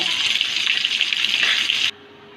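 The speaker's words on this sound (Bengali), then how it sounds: "এবার ওই পাশটাও ভেজে নেব" Rohu fish frying in hot oil, being turned to fry the other side: a loud, steady, hissing sizzle that runs for about two seconds and then stops abruptly, leaving near silence.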